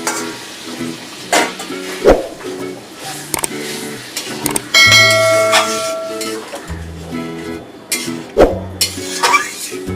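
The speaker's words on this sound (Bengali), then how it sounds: "এবারে আমরা এর মধ্যে সিদ্ধ করা ডালটা ঢেলে দেবো।" Boiled moong dal poured into a pan of fried rohu fish heads and stirred, with scraping and clanking of a utensil against the pot, bursts of sizzling, and occasional knocks, under intermittent voices.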